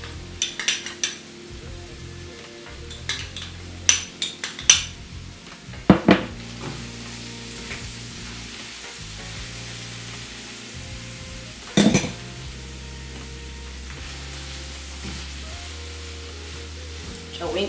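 Butter goes into a pot of Ethiopian afagn stew and gets stirred, with scattered clinks and scrapes of a utensil against the pot over a low simmering sizzle, and a few sharper knocks near the start and middle.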